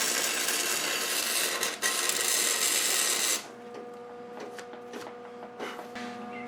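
A motorcycle rigid frame section is tack welded, giving a loud, close, crackling buzz that holds for about three seconds with a brief break, then stops, leaving quieter workshop sounds.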